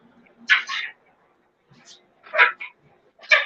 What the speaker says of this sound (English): We had to let the dog out.